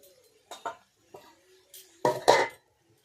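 A pot lid is lifted off a pot of village-style chicken cooking, giving a few scattered light taps followed by a louder double clank of metal near the end, close by with no speech.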